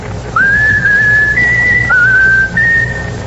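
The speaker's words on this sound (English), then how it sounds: "Now whistle my country 'tis of thee" Someone whistles the tune My Country 'Tis of Thee on an old-time 1943 radio comedy broadcast: a clear, loud, sustained melodic whistle that holds several steady notes with brief pitch jumps over a faint background hum.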